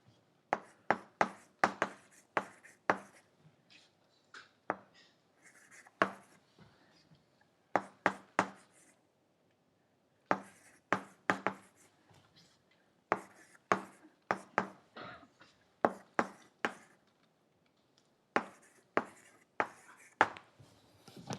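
A lecturer writes long numbers on a board in a quiet lecture room, giving bursts of sharp chalk taps and strokes in quick clusters separated by short pauses, fairly close and without talking.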